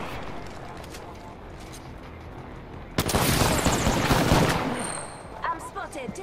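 A burst of gunfire in the Apex Legends battle royale, loud rapid shots and impacts breaking out after a quieter stretch, then tapering off into scattered lighter sounds.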